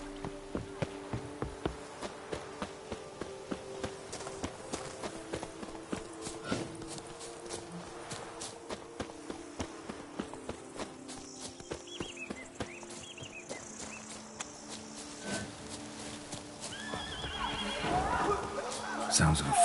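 A horse neighs and whinnies amid hoof clops and game ambience in The Witcher 3, the sounds growing louder and busier toward the end.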